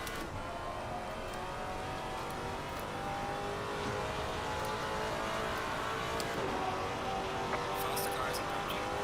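GT3 race cars in Assetto Corsa Competizione at Indianapolis approach with a steady, layered engine drone that holds throughout at moderate volume.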